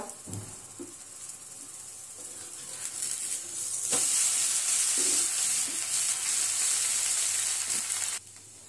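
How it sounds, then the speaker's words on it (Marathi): Onion uttapam sizzling on a hot pan after being flipped, a steady loud frying hiss that swells midway and holds, then drops off near the end, with a few faint spatula scrapes and no talking. "आपण आता उत्तप्पा पलटी मारून घेऊया।"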